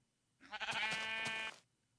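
A single sheep bleats in Minecraft Beta 1.7.3, one clear, close, wavering call lasting about a second, alone against near silence.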